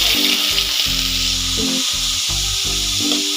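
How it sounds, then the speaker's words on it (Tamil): Steady oil sizzle and crackle from ridge gourd peel frying in a pan, continuous and close, with no talking. "இந்த பீக்கங்காய் தோலை இந்த எண்ணெயில் போட்டு நல்லா"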